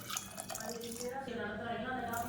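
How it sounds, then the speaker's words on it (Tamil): Water pouring into a cooking pot with a steady, fairly faint rushing flow, while preparing a chutney side dish; a voice may be faintly present beneath it. "நல்லா ஒரு 2 டம்ளர் அளவுக்கு தண்ணி சேர்த்துக்கலாம்."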